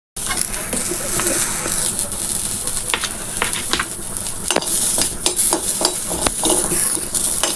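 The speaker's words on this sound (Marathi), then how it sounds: "सगळे व्हेजिटेबल तू असे फ्राय करून घेणार आहेस का?" Vegetables, carrots among them, stir-frying in a pan for vegetarian ramen, giving a steady broadband sizzle with scattered sharp clicks of stirring throughout, close and fairly loud.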